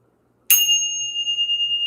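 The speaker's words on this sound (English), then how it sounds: "We're going to ring the bell." A small bell is struck once to clear the energy, a bright, sharp strike followed by a pure ringing tone that sustains and slowly pulses without fading, alone in a quiet room.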